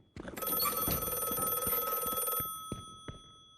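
Telephone in the video game The Last Case of John Morley gives a single long, loud shrill ring, with faint footsteps or thuds around it and a quiet tail afterward.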